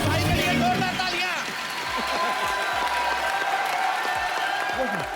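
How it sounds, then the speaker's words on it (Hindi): Studio audience at a Hindi comedy talk show bursts into loud applause, with thick clapping and crowd noise at the start that continues at a lower level beneath other sounds for the remainder. "मेरे भाई के लिए जोरदार तालियां।"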